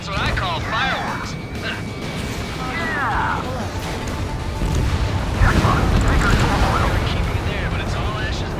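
Ships blow up in the Ace Combat 7 video game, deep rumbling blasts and heavy booms rolling continuously under radio chatter and voices speaking over the noise.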